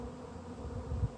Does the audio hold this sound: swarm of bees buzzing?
yes